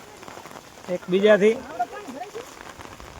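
Rain falls in Kutch with a faint, steady patter in the background while a person speaks briefly over it, close to the listener.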